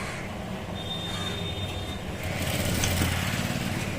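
Sewing machine stitching two fabric pieces together, a steady close mechanical whirr with a faint rhythmic chatter that grows slightly louder partway through, no talk.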